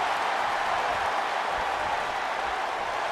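Steady roar of an arena crowd cheering and applauding in the WWE 2K24 wrestling game, a continuous broad wash of noise holding level throughout with no distinct voices.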